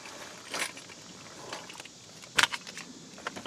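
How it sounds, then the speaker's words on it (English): Car keys jangle in short bursts, close and fairly quiet, during repair work on a 2001–2003 Ford Escape with an electrical no-start fault; the sharpest metallic rattle comes near the middle. "Let me get the keys."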